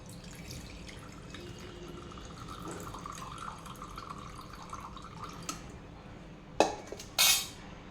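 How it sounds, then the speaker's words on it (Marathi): Water drips and trickles as it is drained from salted mango pieces for pickle, dishes clinking nearby, ending with a couple of sharp pouring splashes. "आता याला यामध्ये जे पाणी आलेलं आहे हे पाणी आपण काढून घेऊ।"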